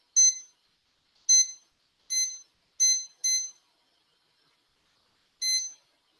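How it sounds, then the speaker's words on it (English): A kitchen timer on the stove gives six short electronic beeps, bright and close, as the buttons are pressed for ten minutes while bulgur boils. The beeps come at an uneven pace with silent gaps between them. "and then I'm going to set the timer"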